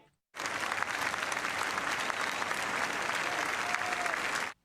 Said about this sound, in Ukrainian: Його появу публіка зустріла оплесками.